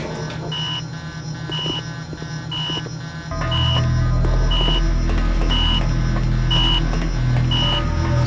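Repeating electronic alarm from the PS2 game Mission Impossible – Operation Surma, a steady pattern of high beeps about once per second over a low droning background that grows louder partway through.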